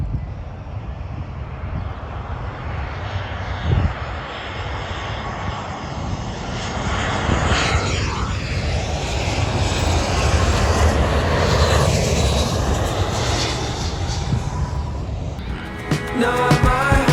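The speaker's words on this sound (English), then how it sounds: "here comes another plane." A fixed-wing airplane passes overhead, a loud, steady engine roar that swells in the middle and holds for many seconds before easing, with wind noise and no talking.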